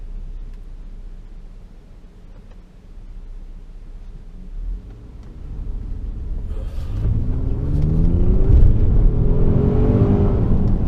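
Cabin view of a 2017 Ford Explorer Platinum with the EcoBoost V6 accelerating to pass another vehicle: a low steady rumble of cruising gives way to a rising engine drone and road roar that builds loud and holds.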